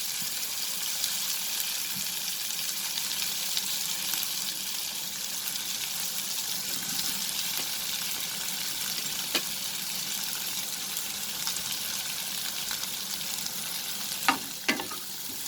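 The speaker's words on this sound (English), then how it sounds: "Just saute everything together" Chopped onion, green chilies, tomato and capsicum sauté together in a pan over medium flame, giving a steady, close sizzle with a few light clicks of stirring and no voices.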